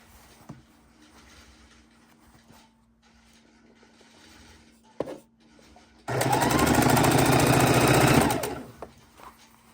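A sewing machine stitching quilt borders at a quarter-inch seam: quiet fabric handling and light clicks at first, then a loud, steady whirring run of stitching for about two seconds before it stops.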